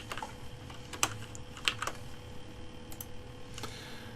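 Keys clack on a computer keyboard in a scattered rhythm of light taps with a few sharper strikes, close and fairly quiet, with no talking.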